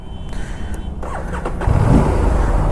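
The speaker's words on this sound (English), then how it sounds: "Let's quickly crank this engine up and take a feel of how the exhaust sounds." A 2024 Aprilia RS457 motorcycle engine with an underbelly exhaust cranks over and catches, then settles into a steady, close rumble after a short burst of starter noise.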